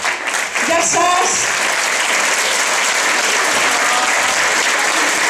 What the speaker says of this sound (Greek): Ένα θερμό χειροκρότημα για το μουσικό μας εργαστήρι.